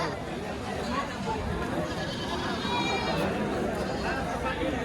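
Goats bleating at a crowded livestock market, a few wavering calls rising over dense crowd chatter and general hubbub, with people talking throughout.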